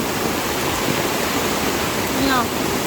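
Heavy downpour and rushing floodwater with strong waves, pouring in a steady loud broadband roar that drowns out everything else, with a brief voice-like tone near the end.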